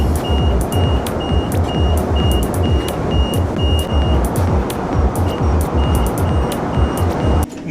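Interior of a fast-moving city bus in Taiwan: a heavy rumbling engine and rattling road noise fill the cabin while a high electronic beep repeats at a regular pace, with no speech.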